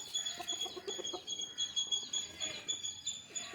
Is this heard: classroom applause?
no